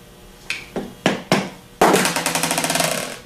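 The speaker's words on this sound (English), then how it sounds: "We're gonna use two plain size screwdrivers. Wedge them in on different sides of the solenoid." Two flat screwdrivers are wedged against a starter solenoid on a 37MT starter, giving four separate sharp metallic knocks, then a quick run of rapid clinks and rattles as the tools are worked in, close and fairly loud.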